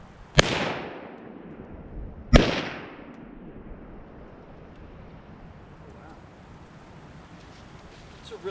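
Two sharp outdoor pistol shots from an AMT Automag 2 about two seconds apart, each with a long ringing echo. A faint wind-like hiss carries underneath.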